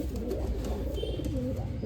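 Pigeons in a new cage give soft, low cooing, close and steady against a dense background murmur, with no talking.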